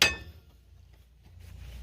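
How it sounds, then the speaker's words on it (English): A hammer strikes a bolt during rear rotor replacement on a 2014 Hyundai Sonata, giving one sharp, close metallic clang that rings briefly and fades into quiet garage background. "You put it right in front of the bolt and you hammer in"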